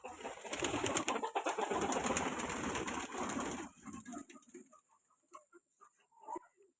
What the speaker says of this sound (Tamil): பார்த்தீங்களா எவ்வளோ பறவைங்க இருக்குங்கன்னு